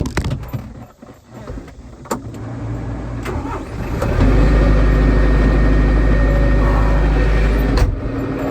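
A tractor engine idling and revving nearby, a low steady rumble that swells louder halfway through and holds, with a few clanks at the start.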